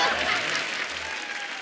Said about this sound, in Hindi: जोरदार तालियां ले जाइए